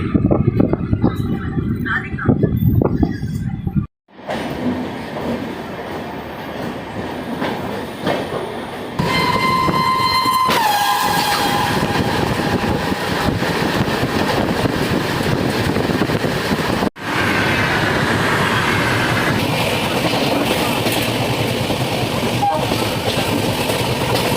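Superfast express train running out of Anand Vihar, Delhi, a continuous loud rumble and rail roar heard from aboard, with wind buffeting, a brief dip early on and a rising whine partway through.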